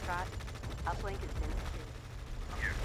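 Artillery trades fire in the Tom Clancy's EndWar strategy video game, heard as continuous rapid gunfire and distant booms under a game voice, with a short radio-like voice blip near the end.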